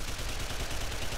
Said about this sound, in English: the machine gun is fired.